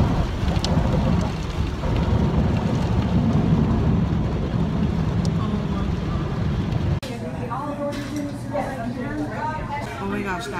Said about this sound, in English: We got in the car and it was like pouring, raining outside